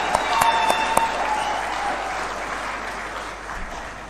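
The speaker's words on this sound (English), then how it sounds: "Let's clap for that." An audience at a formal recognition ceremony honouring a tax commissioner bursts into applause, with a few sharp early claps swelling into dense, steady clapping that gradually fades.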